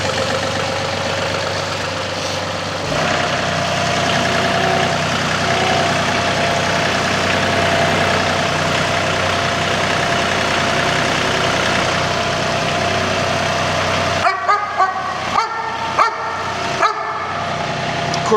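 A steady tractor engine idles nearby with a constant low rumble, and a dog barks intermittently over it; near the end the engine cuts off, leaving a few sharp knocks.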